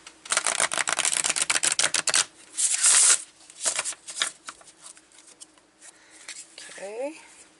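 Cosmic Journey Oracle cards are shuffled close up in a rapid run of crisp riffling flutters, then a few slower slides and taps follow, with a faint voice murmuring near the end.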